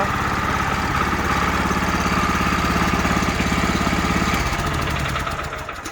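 A walk-behind cultivator tiller engine runs just after starting, a loud, steady, rapid chugging throb that holds evenly before easing slightly near the end.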